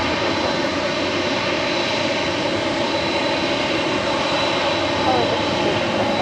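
A Qatar Cargo jet airliner rolls out at LAX with a steady, loud engine roar that holds level throughout, and a voice talks faintly beneath the noise.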